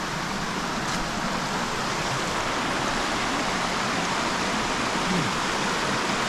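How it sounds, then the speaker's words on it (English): At Fitzroy Falls near Sydney, a waterfall gives off a constant, even rush of falling water, heard from a short distance as a dense steady hiss with no voices. "That waterfall over there is really cool."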